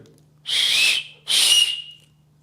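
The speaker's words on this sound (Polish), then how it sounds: "Gwizdek działa." Two loud, shrill blasts from a sleeping-bag whistle close by, each lasting about half a second, separated by a brief pause.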